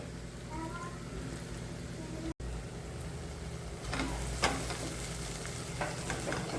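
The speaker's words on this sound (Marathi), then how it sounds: "तळणं चाललेलं आहे" Masala paste with Kitchen King masala frying in a pan for a pea and paneer kofta curry, a steady low sizzle with occasional stirring scrapes and a few sharper clinks, no talking.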